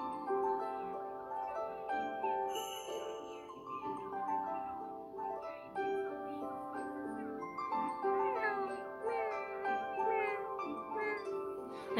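A voice imitates a cat, meowing repeatedly in drawn-out, wavering tones at close range, with faint clinks in the background.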